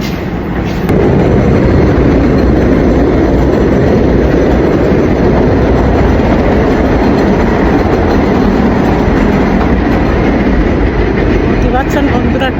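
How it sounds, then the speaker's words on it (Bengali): A train running along an elevated track, heard from inside as a loud, steady rolling roar with rail rumble lasting throughout. "বুঝতে পারছেন বন্ধুরা, ট্রেন চলতেছে।"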